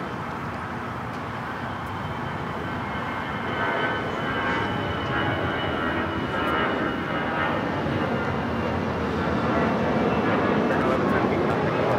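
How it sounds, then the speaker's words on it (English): An American Airlines Airbus A319 departing Los Angeles airport (LAX) for San Antonio roars steadily at a distance, a broad engine rumble that swells slightly toward the end and continues with no talk over it. "This is American Airlines 1113 taking off to San Antonio on the A319."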